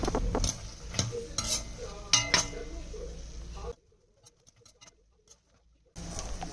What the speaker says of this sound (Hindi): अब मैं ड्राई फ्रूट्स भून रही हूँ लड्डू बनाने के लिए।